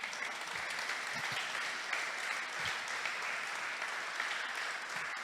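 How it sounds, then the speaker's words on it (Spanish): A church congregation at a leaders' retreat applauds loudly and steadily, a continuous close wash of many hands clapping throughout with no break. "Vamos a dar un aplauso fuerte al Señor."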